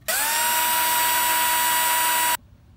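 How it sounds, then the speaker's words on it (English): Power drill boring a hole into the steel frame of an FJ Cruiser while a transmission fluid cooler is fitted, one close, loud, continuous high whine for about two seconds that stops abruptly. "line it up, drill a hole there"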